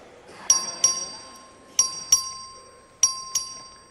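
A voting bell in the Texas House chamber rung by the clerk, sounding a series of bright metallic dings in pairs, each ringing out and decaying, loud and clear in a reverberant hall.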